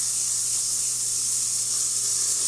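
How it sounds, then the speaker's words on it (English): The steam wand on a Lelit Bianca V3 espresso machine blasts a strong, steady, loud hiss just after descaling, running without a break the whole time. "Steam one, nice and strong, especially after that descaling."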